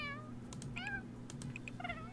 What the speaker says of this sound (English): I want to give her a meow. I think she has a clearer meow.